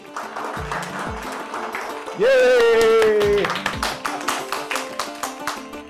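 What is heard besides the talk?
audience applause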